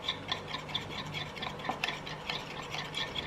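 A spoon or whisk stirs and mixes a runny salad dressing thinned with a splash of water, giving a steady run of soft, close clinks and scrapes with no talk.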